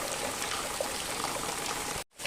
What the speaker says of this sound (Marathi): सहा मे ते सव्वीस मे पर्यंत रोज कंटिन्यू आणि मुसळधार पाऊस पडतोय